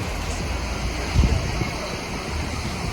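Steady broadband wash of sea waves on Bournemouth beach, continuous surf roar with a brief low thump near the middle, heard alone without talk.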